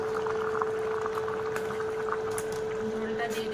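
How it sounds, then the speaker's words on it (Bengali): Gravy poured into a poppy seed curry with drumstick flowers bubbles at a steady low simmer, a soft continuous boil with a faint steady tone behind it. "ঝোলটা দিয়ে দিলাম, একটু ফুটবে।"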